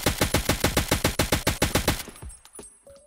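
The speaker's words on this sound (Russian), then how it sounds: "Во-первых, прекрасный звук стрельбы." SAG AK-545 carbine fire in Escape from Tarkov: a rapid, evenly spaced burst of about fifteen loud close shots, then a few fading echoes and metallic clicks afterward.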